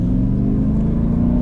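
A Hennessey CT5 Blackwing's engine revs steadily to about 2,000 RPM on dirt with its wheels spinning, a loud, continuous low engine rumble holding at one level throughout.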